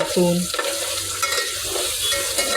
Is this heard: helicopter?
no